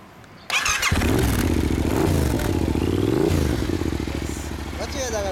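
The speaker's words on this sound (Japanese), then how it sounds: "エンジン音聞かせてもらえるかな。" A 2016 Yamaha MT-07 motorcycle with a full Over Racing exhaust system starts up and idles with a loud, steady, rumbling beat close by, with a couple of blips of revving and people talking over it.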